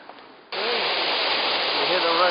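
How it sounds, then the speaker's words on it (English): Water rushing steadily through a tunnel under a hill in Salzburg, Austria, near Universitätsplatz, a broad continuous roar that starts abruptly and stays loud, with faint background voices. "You hear the rush of the water"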